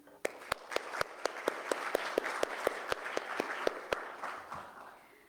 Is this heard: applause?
yes